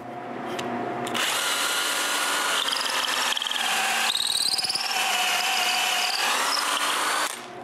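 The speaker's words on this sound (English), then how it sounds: "I drill a hole." A power drill bores a hole through a wooden guide clamped in place, loud whining spin-up followed by sustained grinding and chattering as the bit bites into the wood, easing off at the end.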